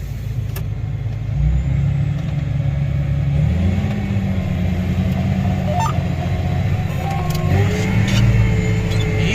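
A tractor engine pulls a ripper through the ground, revving hard in a loud, close, continuous drone whose pitch climbs and shifts as the throttle is pushed, with no talk over it.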